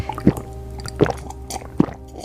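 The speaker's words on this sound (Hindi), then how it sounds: "सावित्री अपने पिता को पानी देती है।" Water is poured into a glass as a sound effect, three or four distinct close plops and squishy liquid splashes spaced about a second apart over a low steady hum.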